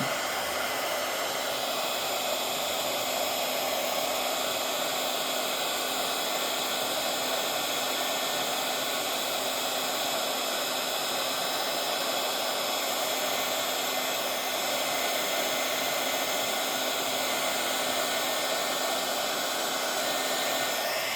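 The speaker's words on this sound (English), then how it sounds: "So now I'm turning on our heat tool." A hair dryer used as a heat tool runs continuously at close range. Its steady, even whoosh of blowing air and motor hum stays level throughout, with no talking over it.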